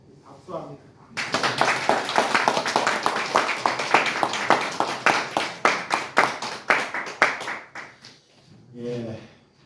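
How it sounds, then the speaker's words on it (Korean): At an Easter Sunday church service, a congregation claps for several seconds in a lively, slightly uneven burst of many hands, close and loud, with brief voices just before and after. "박수합니다."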